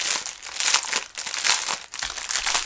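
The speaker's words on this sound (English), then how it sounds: "Crinkle alert." Packaging for rhinestone Staroar kits crinkles nearby in continuous bursts with a few brief pauses, loud and alone without talk.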